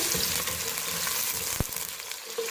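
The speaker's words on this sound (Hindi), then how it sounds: "हाफ कप मैंने ऑयल लिए, उसमें प्याज शामिल करेंगे।" A medium onion fries in half a cup of hot oil, giving a dense, even sizzle close up, with one sharp clink of a utensil partway through.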